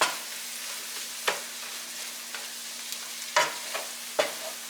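Mushrooms and onion fry in a very hot pan with a soft, steady sizzle, broken by a few sharp scrapes and clinks of a utensil stirring.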